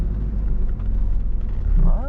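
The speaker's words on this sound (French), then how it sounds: "Et on redémarre tranquillement." Car engine idling and then pulling away gently during a French driving lesson, a low steady rumble with a rising engine tone at the end, close inside the cabin.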